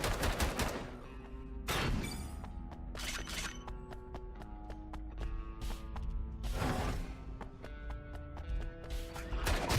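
Turrets in the video game Bunker Punks fire loud, rapid bursts of gunfire, with sharp repeated cracks and clattering volleys filling the whole stretch without pause.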